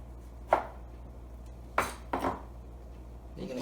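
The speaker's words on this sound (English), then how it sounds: "you want to cut it across the grain so it won't be so tough" Knife strokes slicing steak across the grain into roughly quarter-inch strips on a board: three or four sharp, separate chopping knocks spaced unevenly over a few seconds, fairly close and clear against a quiet kitchen hum.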